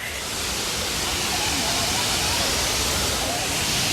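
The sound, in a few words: waterfall at Roswell Mills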